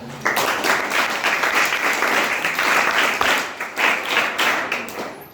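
A crowd applauds, many hands clapping together in a dense, steady burst that swells and then tapers off near the end.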